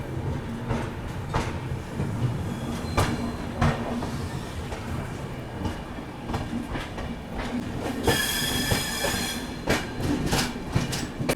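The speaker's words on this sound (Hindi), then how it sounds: "बिल्कुल निर्धारित समय 11:25 पर हमारी ट्रेन निकल चुकी है न्यू दिल्ली" The Dibrugarh Rajdhani Express, running out of New Delhi, rumbles steadily with rhythmic clickety-clack of wheels over rail joints and a burst of brighter wheel squeal near the end, with no talking.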